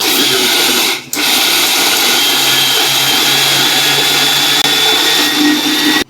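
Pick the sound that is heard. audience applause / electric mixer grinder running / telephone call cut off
electric mixer grinder running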